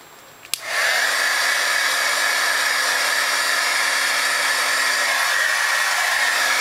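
An embossing heat tool blows a steady, loud whooshing hum as it melts silver embossing powder on a Framelits snowflake ornament, clicking on after a brief pause and then running continuously without speech.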